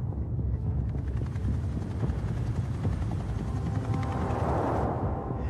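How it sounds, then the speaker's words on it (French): A helicopter's loud, steady rotor thump fills the air close overhead above a prison, a continuous chopping rumble with a faint shift as it passes. "l'hélicoptère arrive au-dessus de la prison de Réau"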